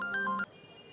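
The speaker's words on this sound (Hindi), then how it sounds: "आ गया तेरी भाभी का फोन" A mobile phone ringtone rings, a short melodic electronic tune playing loudly and close for about half a second before cutting off abruptly, with a low hum remaining.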